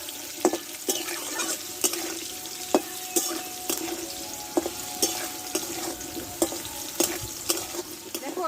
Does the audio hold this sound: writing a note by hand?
no